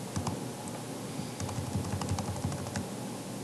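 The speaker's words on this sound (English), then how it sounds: "I'll just type that page 167" Computer keyboard typing in short irregular bursts of quick clicky keystrokes, close and moderately loud, with a brief pause between bursts and no talking.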